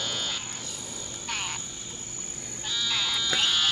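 Cane toads croaking close by outdoors, a few short trilling calls rising over a steady backdrop of insects and other frogs.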